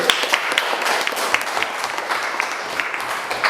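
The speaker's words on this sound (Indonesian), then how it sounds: "Tepuk tangan untuk kelompok B" Classroom applause for a student group: a steady patter of many hands clapping together, fairly close and even throughout, with no talking.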